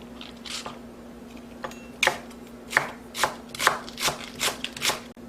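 A knife chops napa cabbage and green onion on a cutting board for fresh geotjeori, a series of about ten crisp cuts that come at an uneven, steady pace, close and fairly quiet, with a faint constant hum underneath.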